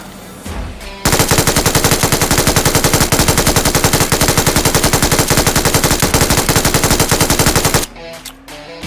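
An electromagnetic gun fires in the video game PUBG Mobile, a loud, rapid, unbroken burst of automatic shots lasting about seven seconds, with brief game sounds before and after.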